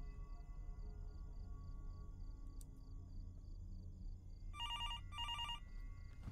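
A hotel room telephone in the horror game Fears to Fathom rings in two short electronic bursts near the end, after a quiet stretch of low room tone with a faint high tone.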